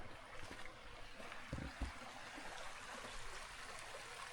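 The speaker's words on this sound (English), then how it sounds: "Here I need to pass a little river." A small river in the Cairngorms of Scotland flows with a steady broadband rush, with some wind noise and a couple of brief nearby knocks partway through.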